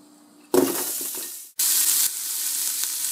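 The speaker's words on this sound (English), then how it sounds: "So now the butter and the oil is hot, I'm going to add some of my ginger," Ginger, onion and garlic hit hot butter and oil in a pan, a sudden loud burst of sizzling that fades, then a second sharp hiss that settles into a steady, close frying crackle.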